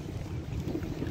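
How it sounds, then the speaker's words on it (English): Strong outdoor wind buffets the microphone in a steady low roar, brief and fairly faint. "it's very windy here"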